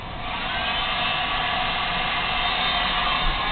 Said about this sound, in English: Again, you could use a hairdryer.